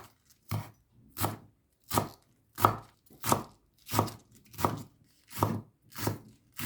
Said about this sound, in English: Get a leaf from the cabbage and cut into strips.